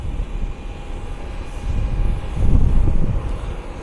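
Steady low roar of a Southwest airliner just after touching down on the runway, a continuous rumble swelling slightly toward the end, heard from outside with no talking.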